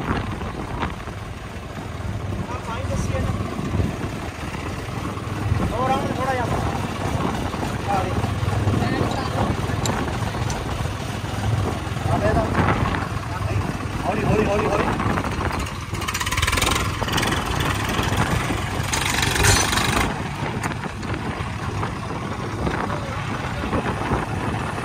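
A Swaraj 855 tractor engine runs through a roadside tochan pull, giving a continuous low rumble with some revving. Several people talk and shout over it throughout, and the noise grows busier toward the end.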